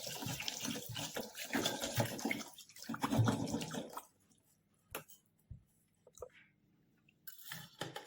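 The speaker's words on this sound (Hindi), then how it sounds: "ये अंडे के ऊपर हम ठंडा पानी डाल देंगे ताकि छीलने में आसानी हो जाए" Cold tap water poured over boiled eggs in a kitchen sink or pan for egg curry, a loud steady splashing rush for about four seconds, then faint knocks and trickles, with another short burst of running water near the end.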